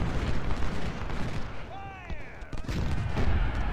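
Artillery fire in the Civil War strategy game Ultimate General: Civil War during the Chantilly battle: a dense, continuous rumbling barrage of booms, with a voice briefly heard over it.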